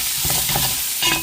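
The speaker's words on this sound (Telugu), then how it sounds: "మంచిగా ఉల్లిపాయలు వేగినాయి." Onions frying in a pan for a homemade Telugu chicken liver pulusu, a steady close hiss and crackle with a few soft stirring scrapes, no voices.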